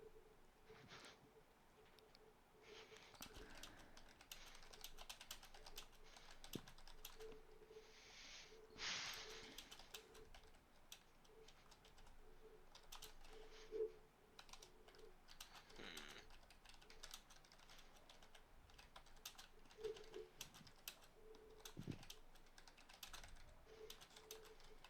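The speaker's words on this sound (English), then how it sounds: "I'm typing it in the chat right now" Someone types a chat message on a computer keyboard, a long run of soft, quick, irregular key clicks heard close but quiet, with a faint cooing sound in the background.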